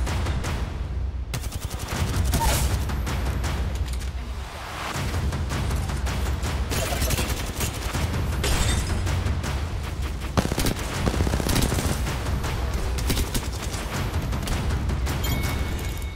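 Gunfire in the Apex Legends video game, dense rapid bursts of automatic weapon shots with booming impacts and brief pauses, loud and continuous throughout.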